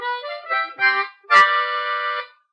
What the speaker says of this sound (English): you're going to block with your tongue the 5, 6, and 7